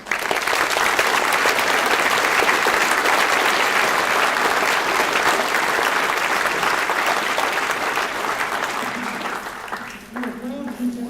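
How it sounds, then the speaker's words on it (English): An audience at the 2024 IDOC employee recognition ceremony applauds in a dense, loud, sustained wave lasting about ten seconds, then tapers off as a voice begins near the end. "Will you please give them all an applause?"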